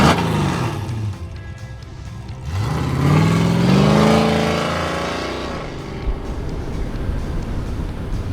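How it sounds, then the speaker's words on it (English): A 1971 Chevrolet C10 truck's 383 V8 with the exhaust cutout open, a loud throaty rev that climbs and swells, holds, then settles back to a rumbling idle. "a secret exhaust cutout switch turns up the volume on the 383"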